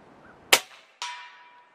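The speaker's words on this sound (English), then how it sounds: "Again, we're in a big bore air gun here." A Snowpeak M60B .357 (9mm) big bore air gun fires one sharp, loud report, followed about half a second later by a fainter metallic ring, likely the distant target being struck at 65 yards.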